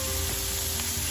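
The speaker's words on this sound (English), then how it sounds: "I'm gonna fry the onions up a little bit first." Onions frying in bacon grease in a pan inside a van, giving a steady, dense sizzle that stays loud and close throughout, with no voices.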